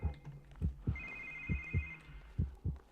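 A telephone rings in the video game The Evil Within. One sustained electronic ring sounds over slow, deep, heartbeat-like thumps that pulse in pairs throughout.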